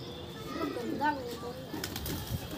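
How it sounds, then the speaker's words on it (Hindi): A freshly caught pigeon flaps its wings and gives a short coo, close by, while people talk excitedly around it in the background. "ये कबूतर है गाइस"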